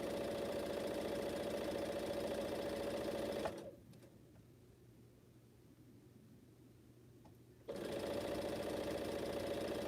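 A sewing machine stitches fabric in rapid steady bursts, a loud buzzing motor hum running for several seconds, stopping into near quiet with faint clicks, then starting again at the same steady pace.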